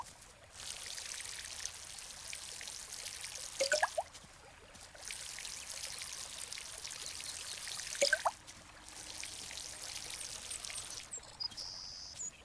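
Plants are watered in the farming game Garden Simulator: a steady pouring, splashing stream runs for a few seconds at a time in three bursts, each ending with a short rising tone, with no talk over it.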